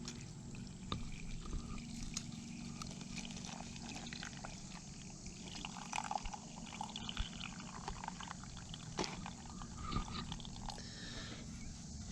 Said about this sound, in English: We're going to pour it in there.